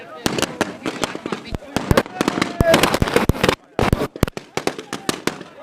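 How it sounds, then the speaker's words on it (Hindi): Fireworks bursting at a New Year celebration during a farmers' protest, a dense run of sharp cracks and bangs in rapid irregular clusters, with crowd voices underneath. "देखिए आतिशबाजी जो है वो आतिशबाजी यहाँ पर हो रही है"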